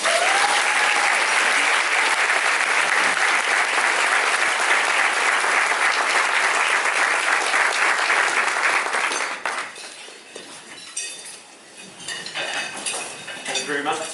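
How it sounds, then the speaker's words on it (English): A crowd of new teachers at a school district welcome event gives warm applause for a keynote speaker, steady dense clapping for about nine seconds, then it thins out and fades into scattered claps and room noise. "please give him a warm round of applause"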